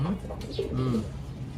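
A grizzle pigeon coos softly in a few low, rounded notes, close by, with faint background noise and no talking.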